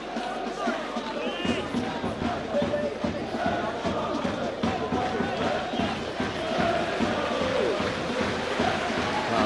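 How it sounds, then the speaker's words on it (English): Aldershot Town football supporters in a stadium crowd at a night match away at Torquay United give a sustained round of applause, a dense continuous roar of clapping and crowd noise throughout. "It's a tremendous round of applause from the Aldershot supporters"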